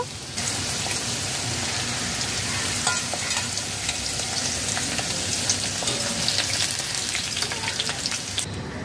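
Okra fries in hot oil in a pan, producing a loud, dense, unbroken sizzle like heavy rain, scattered with small pops and occasional stirring clicks.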